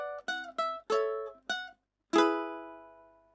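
Ukulele played solo for the third section of a How To Train Your Dragon theme: five short plucked chords in a quick uneven rhythm, a brief pause, then one strummed chord left ringing and fading out.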